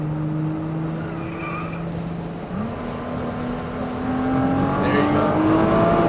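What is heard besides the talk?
car braking and accelerating on a driving course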